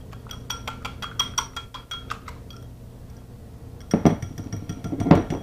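A whisk or fork beats eggs in a bowl, fast rhythmic clinks against the side in a quick run, then a pause and two louder bursts of knocking near the end.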